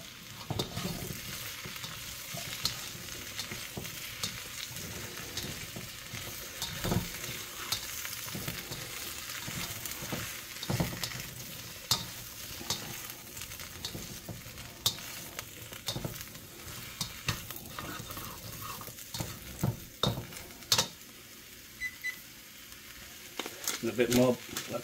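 Mushrooms and bok choy stir-frying in a pan, a quiet continuous sizzle broken by repeated scraping and clattering stirs throughout.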